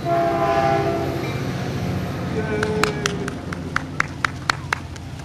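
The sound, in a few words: passing train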